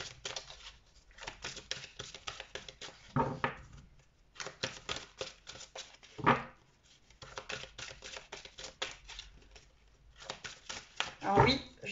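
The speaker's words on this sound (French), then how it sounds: "Alors oui, je vous tire les cartes directement là." A deck of tarot cards is shuffled and drawn close up. Rapid riffling and flicking bursts repeat with brief gaps, and soft thumps mark the pauses between them.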